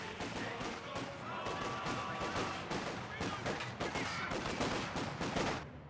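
Infantry firefight in the strategy game Company of Heroes 2 as a section trades fire with Volksgrenadiers: continuous rattling rifle and machine-gun bursts at mid distance, sustained and dense throughout.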